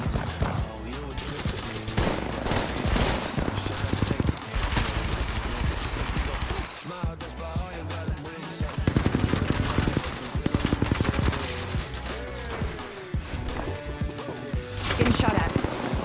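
Rapid bursts of automatic gunfire in Apex Legends Mobile crackle nearly nonstop, loud and close, with brief pauses between volleys, while a voice speaks over the shooting.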